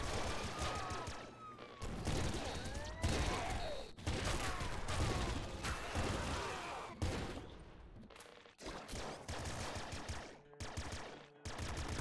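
Weapon gunfire in the video game Nuclear Throne, with rapid bursts of shots coming in clusters separated by short pauses, loud and busy, with game effects mixed in.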